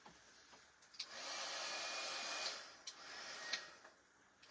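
Heat tool drying paste on a door decoration, a steady close airy whir that runs for a few seconds, dips, then resumes, with small clicks and handling knocks around it and no talk.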